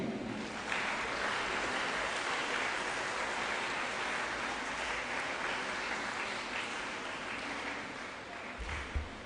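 Steady, dense applause fills a hall at a school's 25th anniversary launch ceremony, a continuous crowd clapping that holds at an even level throughout, somewhat distant, with faint voices underneath.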